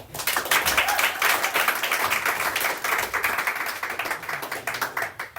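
Sustained applause from a crowd, dense overlapping claps at steady loudness for several seconds.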